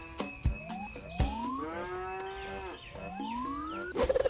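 Cartoonish cow moos from the Cow Catcher video game, several rising harmonic moo calls in quick succession, loud and close, with a few sharp thumps and a clatter at the end.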